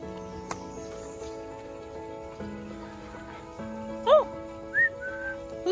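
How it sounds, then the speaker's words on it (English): A pet bird in a backyard tropical garden gives a few short, clear whistles with rising and falling slides, near and fairly loud against a quiet background. "Whistling."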